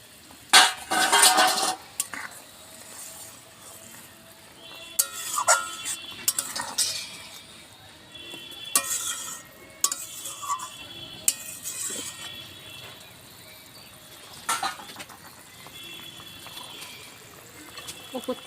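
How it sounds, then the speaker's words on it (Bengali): Fried fish go into a pan and get stirred, with intermittent scraping, clinking and clattering of a utensil against the pan among quieter stretches, while a voice speaks now and then. "হয়ে গেছে। এবার আমি ভাজা মাছগুলো দিয়ে দেব।"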